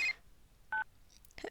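Phone ringing and beeping in DDLC This Bond We Share, a few short electronic tones spaced apart over a quiet background, with no voices.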